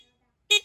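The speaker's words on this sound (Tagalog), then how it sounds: "Gagana yung busina, yung passing natin." Two short, bright motorcycle horn beeps in quick succession from a Rusi Smart 110 after a moment of near silence.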